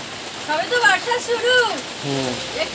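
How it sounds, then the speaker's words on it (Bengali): Heavy monsoon rain makes a steady hiss in the background while a person talks loudly over it for most of the moment. "আজকে থামবে না আজকে মনে হয় বৃষ্টি হবে সারাদিন জুড়ে"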